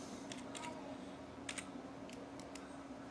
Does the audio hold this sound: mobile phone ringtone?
no